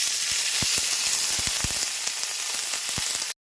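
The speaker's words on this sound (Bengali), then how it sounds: "পেঁয়াজটা দিয়ে দেওয়ার পর গ্যাসের ফ্লেমটা মিডিয়ামে রেখে পেঁয়াজটা একটু লাল করে ভেজে নিতে হবে" Chopped medium onion hitting hot oil after tempering spices, a steady broad sizzle with scattered crackles and pops, close and continuous, ending abruptly.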